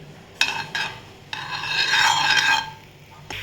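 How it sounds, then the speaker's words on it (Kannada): Chopped dry fruits roasting in ghee in a pan for caramel vermicelli payasam, with a close spoon stirring and scraping in several rasping strokes, separated by short pauses and free of any voices. "ಇವಾಗ I have chopped all the dry fruits and ಇವಾಗ ಗೀನಲ್ಲಿ ರೋಸ್ಟ್ ಮಾಡೋಣ"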